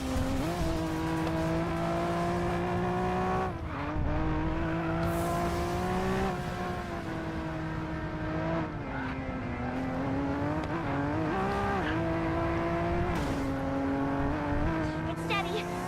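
Race cars roar around the Nurburgring in the Racing Master game, a continuous loud engine drone with rising and falling revs and gear shifts throughout.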